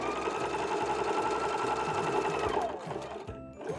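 A sewing machine stitches a pocket bag to fabric in a steady, fast mechanical whir with rhythmic needle knocking, running continuously before slowing and stopping near the end.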